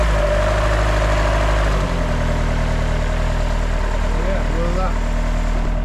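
Vauxhall Vectra race car engine idling in a paddock, a loud close low rumble with a shift in pitch partway through, then steady running, no talking.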